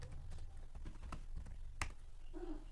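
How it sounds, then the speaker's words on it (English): Typing on a computer keyboard: a quick run of close, light key clicks at an uneven pace, with a sharper tap near the end and no talk. "just type git install"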